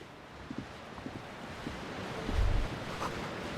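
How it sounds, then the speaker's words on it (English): Waves crash on a dark shore in the video game Disco Elysium as a soft, continuous wash of surf, with a low rumbling surge midway through and scattered light thumps. "Waves crashing in the darkness."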